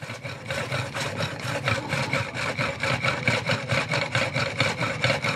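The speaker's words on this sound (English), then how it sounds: "But that is a pump drill, and that's how a pump drill works." A steady, rhythmic rasping and grinding repeats in quick back-and-forth strokes as a hand-powered pump drill bores into stone.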